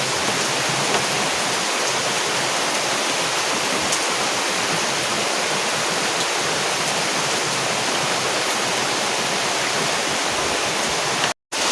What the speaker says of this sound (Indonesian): hujan teman-teman, mendadak hujan.